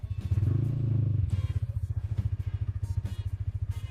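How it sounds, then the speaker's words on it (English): A TVS Apache RTR 200 motorcycle running in place as it is shifted from neutral into first gear, a close, rapid rhythmic single-cylinder chug with a brief heavier burst before settling into an even putter. "I started the motorcycle, it's in neutral."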